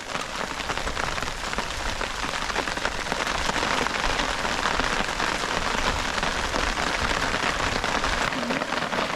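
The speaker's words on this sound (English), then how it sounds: "now we've got hail coming down" Hail falls during a storm at a campsite in Milford, a steady, dense patter that drums loudly and evenly across the whole stretch, with no voices.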